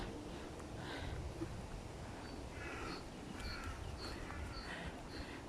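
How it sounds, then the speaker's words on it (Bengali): Crows cawing repeatedly outdoors beside a pedestrian greenway path, several distinct calls spread across the stretch at moderate distance, over a steady breezy background with leaves moving in the wind. "পাখির শব্দগুলো শুনছেন"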